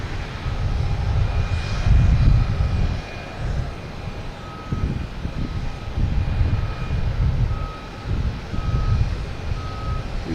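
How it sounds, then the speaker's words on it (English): A JetBlue Airbus A220 jet takes off at Boston Logan, its distant engine rumble swelling and fading under a nearby vehicle's steady, repeated reversing beeps. "We got JetBlue and A220 to JFK taking off now."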